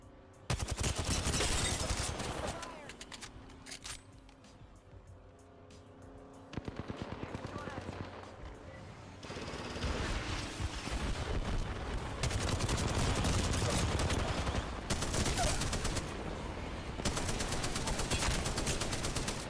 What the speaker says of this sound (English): Some fuckers shooting at me.